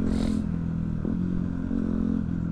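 A large Harley-Davidson motorcycle engine idling with a low, lumpy, uneven throb, steady and close, with a brief hiss at the start.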